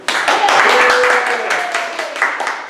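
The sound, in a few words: audience applause welcoming a presenter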